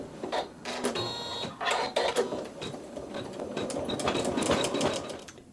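An MQ15 sewing machine quilts a Dresden quilt block with a close, steady mechanical whir and chatter that surges and eases in short runs, with no talking.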